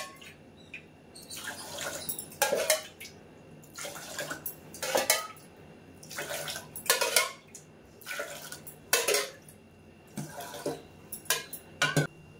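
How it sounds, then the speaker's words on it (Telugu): Water is poured in repeated splashing bursts into a vessel of washed rice and lentils for a homemade pappu pongali, each pour separated by short pauses, with light clinks of the metal pot and no talking. "6 గ్లాసులు నీళ్లు పోద్దాము"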